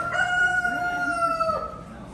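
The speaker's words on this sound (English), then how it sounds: "Good rooster right there." A rooster at a county fair crows once, loud and near, its drawn-out call rising then trailing off over a faint outdoor background.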